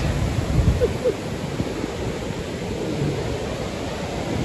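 Sea waves and surf rolling in at Tolsty Cape in Gelendzhik, a steady broadband wash of water with wind noise over the microphone, fairly close and continuous, with a few faint knocks early on.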